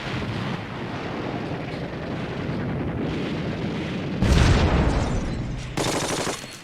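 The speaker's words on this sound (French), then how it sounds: "Grenade à main." A hand grenade bursts among WWII-era German infantry assault footage, a loud sudden blast erupting over a continuous rumble of battle and gunfire, followed by a second burst of noisy debris.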